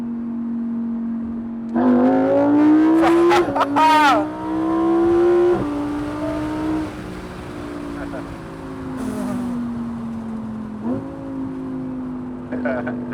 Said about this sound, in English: that downshift and then the pull was different